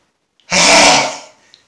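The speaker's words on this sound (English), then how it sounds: "I had a request to do uncovered sneezes" A loud, uncovered human sneeze bursts out once in a single forceful blast with a short breathy tail, heard up close against an otherwise quiet room.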